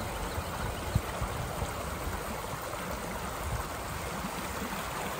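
A stream flows steadily beside a park, a faint, even rushing wash of water with no breaks and only a couple of small knocks.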